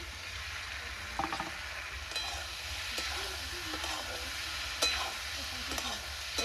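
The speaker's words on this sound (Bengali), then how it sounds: "কেটে রাখা আলুটা দিয়ে দেবো" Cut potatoes sizzling and being stirred in oil with mutton curry in a pan, a steady close fry with scraping stirs and occasional sharp clinks.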